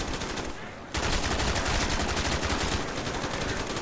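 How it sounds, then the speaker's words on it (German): Rapid, sustained automatic gunfire in Call of Duty: Black Ops, dense repeated cracks after a brief quieter moment, loud and continuous, firing nonstop. "es hört nicht auf. Hat 100 Schuss abgelassen"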